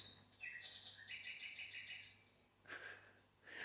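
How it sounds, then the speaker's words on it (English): A cuckoo clock sounds its bird call: a bright run of chiming whistle notes, then a shorter pair of calls, set against a quiet room with a low hum. "That's my cuckoo clock."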